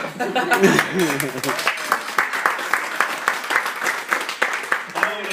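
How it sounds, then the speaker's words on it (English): An audience at a comedy cabaret show claps in a fairly sparse, rhythmic patter of distinct hand claps, with a voice talking over the start and again at the end. "you can applaud me again"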